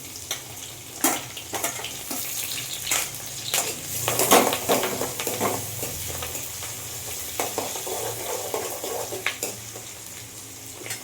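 Garlic, onion and curry leaves sizzle in a pan for a fish head curry, with steady frying crackle and repeated scraping stirs of a spoon against the pan throughout.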